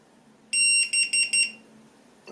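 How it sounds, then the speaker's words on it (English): An ISDT FD-100 smart battery discharger beeping when finished: a sharp, high electronic beeping, one longer tone followed by three quick beeps, close and clear against a quiet background. "The beeping should go on for 1 minute, and after that it should stop."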